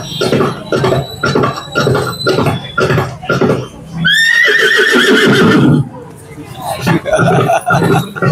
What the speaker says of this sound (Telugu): సో ఒకసారి గుర్రం సౌండ్ వినండి మీరు